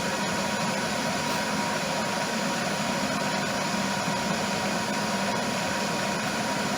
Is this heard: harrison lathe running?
yes